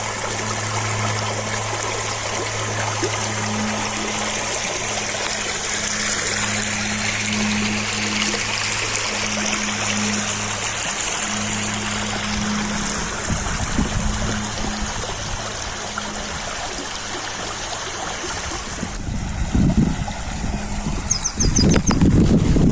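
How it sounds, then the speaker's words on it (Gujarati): River water flowing steadily near a temple site in Gujarat, a continuous broad rush with a low droning hum underneath, growing rougher and gustier toward the end as wind buffets the microphone. "નદીનું પાણી કેવું પસાર થઈ રહ્યું છે"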